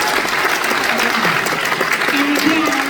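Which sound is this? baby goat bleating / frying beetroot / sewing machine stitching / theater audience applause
theater audience applause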